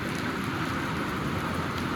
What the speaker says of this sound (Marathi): तर बघा आमच्याकडे चालू आहे मुसळधार पाऊस